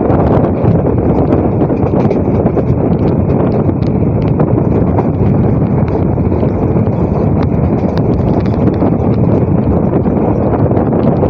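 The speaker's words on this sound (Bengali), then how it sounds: "হাওয়াতে কথা বলতে পারছি না, এত হাওয়া।" Strong wind buffets the microphone in a continuous loud roar while riding a fast EMU train on the Ranaghat–Bangaon line, with no break and no speech.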